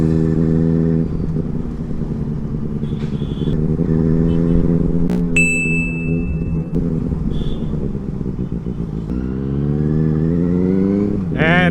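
A Benelli 600i superbike engine runs loud and close with a steady, throaty drone, its revs rising and falling over several seconds and briefly climbing near the end.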